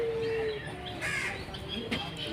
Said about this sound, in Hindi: ये जी सब बहुत ही नायाब परिंदे